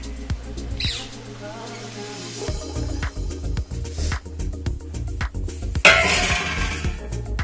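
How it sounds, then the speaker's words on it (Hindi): Plates come out of a pile of dishes in a home kitchen, with scattered clinks and sharp clatters of crockery over steady background music. "प्लेट ले लेते हैं इसमें से।"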